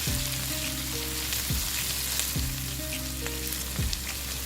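Long beans stir-frying in a pan with chicken noodle ingredients, a dense constant sizzle with a few spatula scrapes, close and even throughout, with no one speaking.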